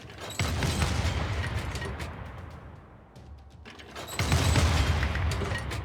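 Combat in Civilization VI as an anti-tank crew and artillery attack infantry: loud, dense bursts of gunfire and booming explosions that ease off briefly mid-clip, then surge back strongly, with no talking.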